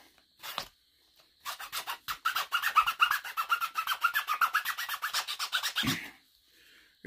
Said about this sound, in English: I'm going to use this rasp, this round rasp